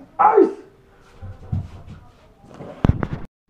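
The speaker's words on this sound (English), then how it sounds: "Ace is really cool dog, I'm not gonna lie." A dog named Ace gives a sharp yip and bark near the start, followed by softer whimpering sounds and a burst of closer, louder barks near the end, with some rustling between.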